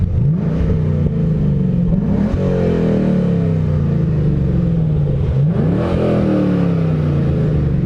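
A Camaro SS V8 with its dual-mode exhaust flaps open revs up twice, each loud, close rise of deep rumble climbing in pitch before falling back to a throaty idle.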